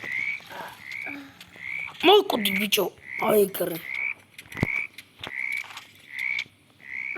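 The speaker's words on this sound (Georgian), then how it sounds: "ბაყაყი" A frog in a video game croaks again and again in steady, evenly spaced calls, close and clear, with a player talking over part of it.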